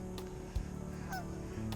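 Geese honk on cold water, several short nasal calls scattered over a steady low background hum, moderately near.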